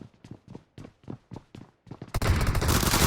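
M416 and Scar-L rifles fire in a team deathmatch video game: a rhythmic series of about ten sharp, punchy shots, then a dense, loud continuous burst of gunfire, close and alone.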